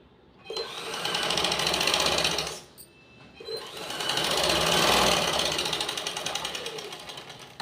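A sewing machine stitches blouse cloth in two bursts of rapid, steady mechanical whirring separated by a brief pause, close and fairly loud.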